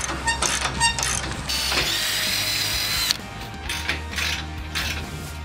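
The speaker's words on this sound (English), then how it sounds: "basically tighten this one all up now." A power tool drives bolts home on new boat skids and rollers for a small aluminium tinny: short whirring bursts and ratcheting clicks, then one sustained high whine lasting a couple of seconds before more brief bursts, close by.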